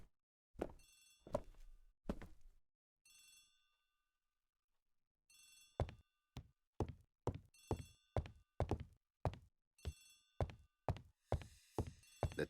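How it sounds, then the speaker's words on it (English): A telephone rings repeatedly in Agatha Christie's The ABC Murders video game, a bright old-style bell trilling in steady bursts that turn into a quick, regular sequence of rings, loud and close with no talking. "The telephone is ringing."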